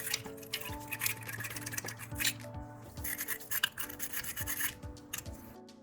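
A battery post terminal cleaner brush scrubs a car battery's posts and cable terminals in quick rasping strokes, repeated scratchy rubs with brief pauses, close and fairly quiet.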